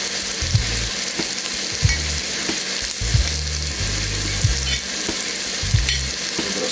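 Garlic steaks fry in oil in a pan over lowered heat, giving a loud, continuous crackling sizzle with soft low thumps recurring throughout.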